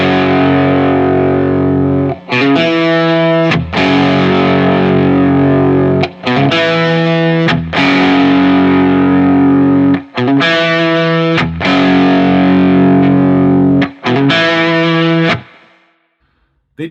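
An overdriven electric guitar plays through effects, heard first with Gibson Historic P90 pickups and then with Mojotone '56 Quietcoil pickups, in loud sustained chord phrases broken by short gaps before fading out at the end.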